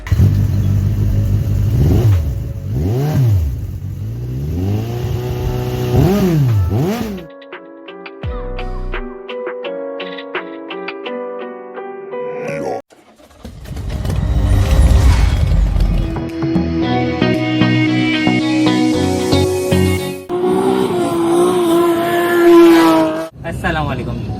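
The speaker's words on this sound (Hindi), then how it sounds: "तो इस बाइक का साउंड टेस्ट करवाते हैं।" A loud motorcycle engine revs up and down repeatedly, climbing to high-pitched whines and dropping back, close by with no talking.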